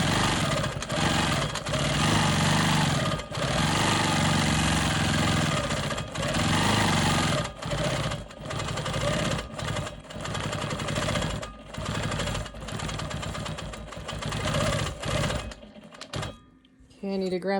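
A domestic sewing machine quilts a Dutchman's puzzle block, stitching in the ditch and sewing swirl patterns; a loud, steady motor whir runs with brief pauses and stops near the end, and a voice talks over it.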